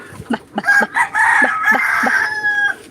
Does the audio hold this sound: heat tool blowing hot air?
no